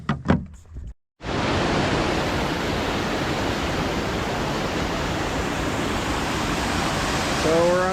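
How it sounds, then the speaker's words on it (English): Steady, loud broadband roar of a waterfall heard from the top of a ledge during a canoe trip in the Bowron Lakes, starting after a brief burst of handling and a moment of silence, then continuing unbroken. "looking at a waterfall set."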